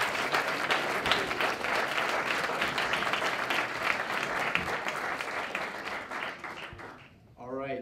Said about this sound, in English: I will ask for a big round of applause for the House of Dietrich Bonhoeffer